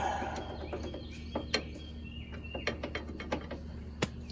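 A wrench ratchets on the steering gear bolts of a vehicle that steers only to the left, sharp irregular clicks and metallic ticks close up over a low steady hum, with no talking.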